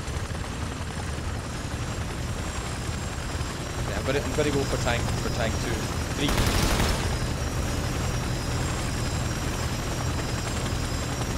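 A helicopter drones steadily in the video game Ghost Recon Advanced Warfighter 2, mixed with gunfire and explosions, while players talk excitedly over the battle.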